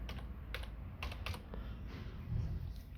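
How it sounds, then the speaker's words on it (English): Soft taps on an Asus Zephyrus S laptop keyboard as a PIN is entered, a few scattered keystrokes over a low, steady background hum. "I'm gonna type my pin."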